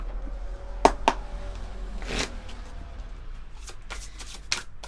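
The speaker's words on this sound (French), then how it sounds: "Alors, je vais essayer de ne pas faire tomber toutes mes cartes. On va prendre le tarot des anges, donc de Dorine Virtue." Angel tarot cards are shuffled by hand in short, papery riffles and taps, with a couple of sharper card snaps near the start, heard close up in a quiet room.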